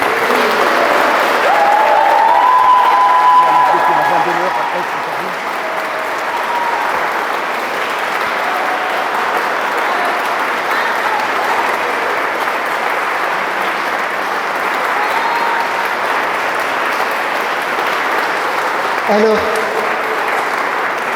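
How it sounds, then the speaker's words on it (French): A wedding congregation inside the Église Saint-Louis in Hyères claps in sustained, even applause that fills the church, while someone speaks briefly over it near the start and a soft tonal note rises early on. "Je vous propose d'applaudir quand même."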